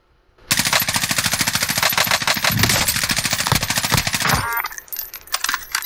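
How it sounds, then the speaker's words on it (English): Automatic gunfire in Call of Duty Warzone hammers out in a loud, rapid, sustained stream for about four seconds, then gives way to scattered quieter pops. "Oh, AirPal, I'm taking fire!"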